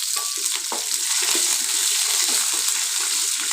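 Shallots, green chili, ginger and curry leaves saute in hot oil for a Karnataka-style tomato bath, giving a dense, even sizzle up close with soft intermittent scraping from stirring.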